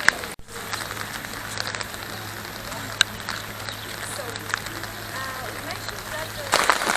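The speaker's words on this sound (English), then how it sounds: "I think it's raining." Steady rain patters on a cruise ship deck throughout, a dense hiss with scattered sharper drops, while people speak quietly over it.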